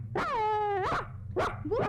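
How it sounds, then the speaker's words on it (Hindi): A puppy in a children's radio play gives a couple of close, loud, whiny barks and yips, with a short pause between them. "वो देखो, वही है लड्डू वाला पप्पी, हमें देखकर भौंक रहा है।"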